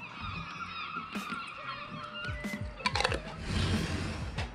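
Seagulls call repeatedly with harsh, wavering cries, fairly close, over background clatter and a few sharp knocks.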